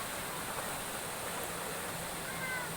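Boiling hot spring water at Palinpinon in Valencia bubbles and seethes as a dense, continuous wash of noise, close and steady throughout the short stretch.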